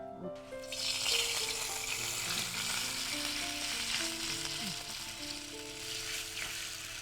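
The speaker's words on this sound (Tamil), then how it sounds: "இப்போ வெல்லம் கொதிச்சிட்டு இருக்கு" Steady bubbling sizzle of jaggery syrup boiling hard in a pan, continuous and close, with faint tonal hum in the background and no talking.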